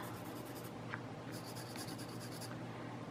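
Pencil shading and blending across paper, soft scratchy strokes with a few short bursts of faster rubbing, faint and close, with no talking.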